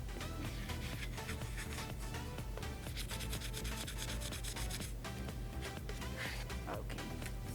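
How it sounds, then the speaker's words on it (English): Steady, continuous rasping of sandpaper on an epoxy-coated glitter tumbler, close and even in rhythm throughout, with no talking. "We're going to sand our tumbler."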